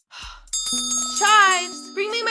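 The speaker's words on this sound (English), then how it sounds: "bring me my challenge bell!" A challenge bell rings with a bright, sustained metallic tone that holds for over a second, while cartoonish voices speak over and around it.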